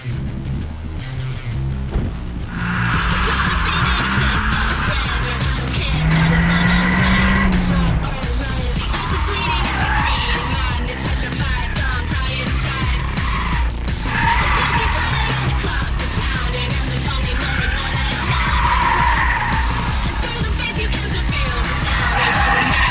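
A Nissan Silvia S15 Spec R is driven hard around a race track, its engine revving loud and continuous with tire squeal and skidding running throughout, close by.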